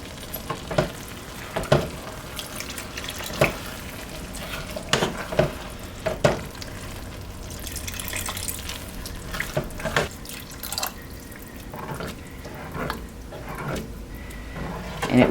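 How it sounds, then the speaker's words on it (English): Wet scraping and sloshing as a thick broccoli rice casserole mixture is stirred in a pot while water is slowly added, with irregular knocks of the utensil and trickling water nearby. "I'm going to go in with about a cup of water, slowly adding while I stir."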